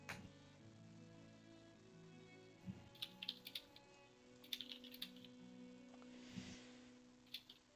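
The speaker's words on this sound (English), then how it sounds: "We can hear you typing now" A computer keyboard is typed on in quiet, scattered bursts of clicky keystrokes over a faint steady hum, heard at low level through an online voice call.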